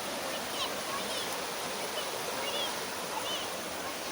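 Broadband rushing of a stream flowing through Saanen, a Swiss village, steady and continuous for the whole stretch with no break in the wash of water.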